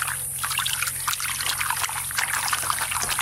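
Tap water trickles and splashes steadily while fish are rinsed in a home kitchen, making a continuous close spatter with no talk over it.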